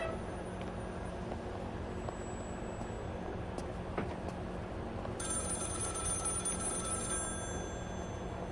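A telephone rings several times in the horror video game Maid of Sker, a steady repeating bell heard over a low dark ambient drone with no talking.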